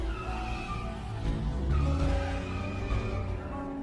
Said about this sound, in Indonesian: Angela kemudian masuk dan mengendarai salah satu mobil di situ